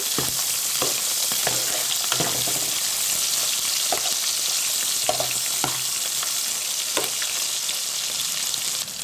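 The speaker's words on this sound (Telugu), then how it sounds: "చక్కగా ఆయిల్లో ఫ్రై అవ్వాలి." Cleaned sand whiting fish fry in hot oil with a dense, continuous sizzle, broken by repeated light clicks and taps of a utensil moving the pieces around the pan.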